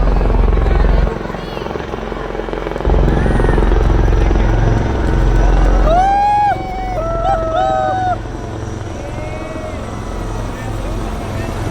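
An Advanced Light Helicopter flies past at an army parade in Jaipur, a steady loud rotor drone filling the clip, with crowd noise and whistling tones rising over it midway and a commentator speaking throughout.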